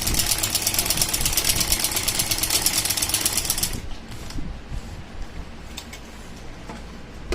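A sewing machine stitches a kurti, a fast even mechanical whir for nearly four seconds, then stops, leaving faint handling and fabric rustles.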